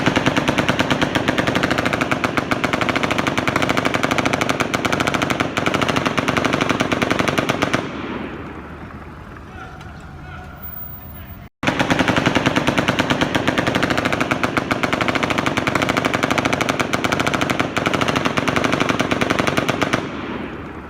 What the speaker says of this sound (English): There's a hotel guest at the Delano posted this particular video where you could hear the rate of fire fluctuating.